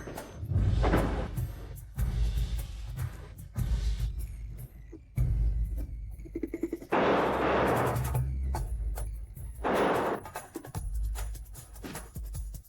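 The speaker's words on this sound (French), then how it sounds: "Les pétards achetés par mamie" Firecrackers crack and pop in rapid irregular bursts, loud and close, with a few heavier thumps among the bangs.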